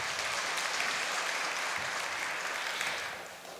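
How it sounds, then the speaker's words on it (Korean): A room full of people applauds steadily, the clapping dense and even before tapering off at the end. "환영의 박수 한번 해주십시오."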